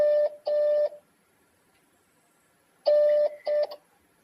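Telephone keypad dialing tones for a call: two short beeps, a pause, then two more, clean and close in an otherwise quiet room.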